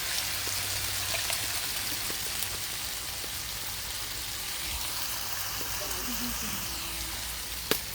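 Pimentos and hot peppers fry over an outdoor wood fire, a constant low sizzling hiss mixed with faint crackling, fairly even throughout, with a single sharp click near the end.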